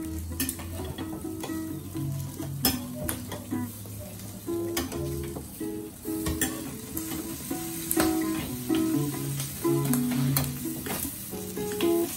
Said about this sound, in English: Then we cook the skin side for 8 minutes.